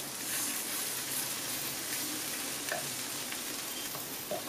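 Ginger, garlic and onions stirred and frying in a pan for mutton keema, a steady dense sizzle with soft scraping of the spoon running throughout.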